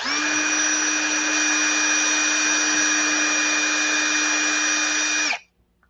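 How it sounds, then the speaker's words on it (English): A power drill spinning a hinge pin against emery cloth for polishing whirs steadily at high speed with a constant whine and light abrasive hiss, then stops abruptly after about five seconds. "chuck them up in a drill and use a piece of emery cloth to just give them a light polish"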